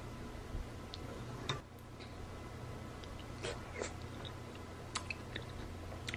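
Someone chews and bites into a ripe kiwi fruit up close, with soft intermittent crunchy clicks and mouth sounds over a low steady background hum; no talking.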